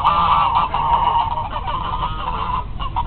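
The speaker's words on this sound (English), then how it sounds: "look at all these geese that attracted." Flock of geese honking in a park, a dense, continuous chorus of overlapping loud nasal calls from many birds close by.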